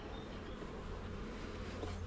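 Honey bees drone steadily around an open hive during an inspection, a faint, even buzzing of many insects close by with no voices.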